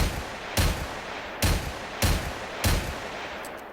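The .44 Magnus handgun in Generation Zero fired four times at steady, spaced intervals, each shot a loud, close, booming crack with a short decay and no talking.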